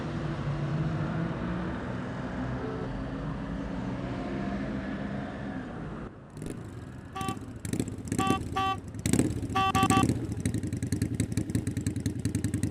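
A motorcycle rides up on a night street, its engine rumbling low and steady before growing rougher and closer with clattering knocks and revs toward the end.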